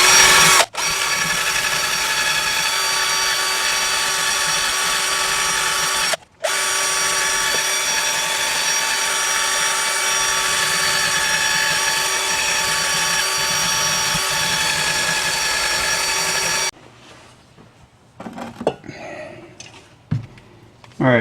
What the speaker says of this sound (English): take a little wire brush thing, put it in your drill, and I'm just going to clean up all the deposits